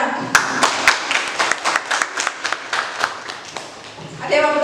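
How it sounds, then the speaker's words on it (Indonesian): Classroom applause for a student presentation group, a small cluster of individual claps that thin out and fade, ending with faint voices. "Tepuk tangan untuk kelompok 3"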